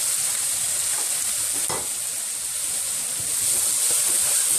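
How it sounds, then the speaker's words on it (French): Samosa filling with coriander being stirred in a hot pan, a steady loud sizzle and hiss with a few scraping strokes of the spoon, no voices. "Et mélanger de façon à ce que la coriandre s'intègre dans la farce."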